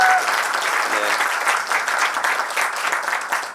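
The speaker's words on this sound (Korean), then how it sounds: "이쯤 되면 박수 한번." A conference audience claps for a speaker at an agile conference talk, a full, even round of applause filling the room from start to finish, with no voice on top.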